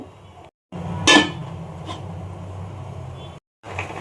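A metal lid is set down on a pot of chicken curry with potatoes, giving a single close clank with a brief ring, over a low, continuous cooking rumble.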